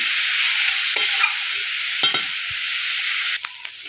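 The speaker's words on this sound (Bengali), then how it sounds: "এটা খুব সুন্দরভাবে ভাজা ভাজা করতে হবে, অনেকটা টাইম ধরে ভাজতে হবে" Khesari greens frying with a rohu fish head in a pan give a steady close sizzle, with a few scraping stirs of a spatula cutting through it.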